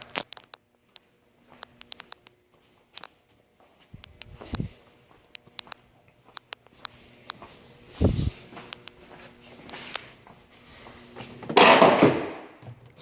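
Assorted clatter and shuffling of objects being moved about, with a few sharp knocks and a louder rustling burst near the end.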